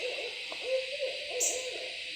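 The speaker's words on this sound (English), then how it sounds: "Mr. Owl wants to talk to us." An owl hoots in a series of low, soft calls at moderate distance over a steady background hum, with a brief high chirp midway, in a pecan grove garden on a hot evening.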